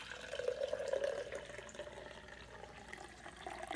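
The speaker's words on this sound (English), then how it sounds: "I'm gonna pour this for Lana." Chilled lemon garlic celery juice is poured, giving a quiet, continuous liquid trickle and splash lasting a few seconds, with nobody talking.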